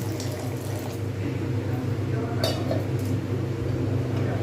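Water is poured into a cooking pan of semolina halwa on a low flame, making a continuous hissing, splashing wash with a few faint metallic clinks.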